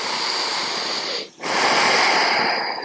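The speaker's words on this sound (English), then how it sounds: "Breathing in and out slowly." Slow, deep breathing during a reclined hero yoga pose: a long airy breath, a brief pause near the midpoint, then another steady drawn breath, close and unhurried, with no talking.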